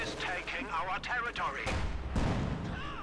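Sturmgeschütz assault gun firing in Company of Heroes 2, a heavy boom landing mid-clip followed by a second blast, under continuous commentary.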